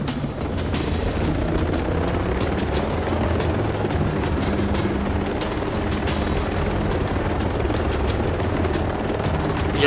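Helicopter in Ghost Recon Breakpoint, a loud continuous rotor thrum and engine drone throughout, close and steady with rhythmic blade chop over a low rumble.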